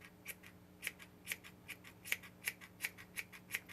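Scissors trim a crocheted faux fur pompom in a steady series of about a dozen crisp, close snips, quiet and evenly paced with no talking.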